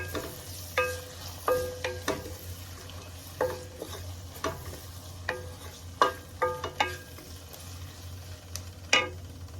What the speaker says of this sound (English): And then we stir this.